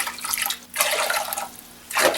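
Kitchen tap water running into a pot, a steady broadband splashing rush that comes in three close, loud bursts with brief drops between them, and no talking.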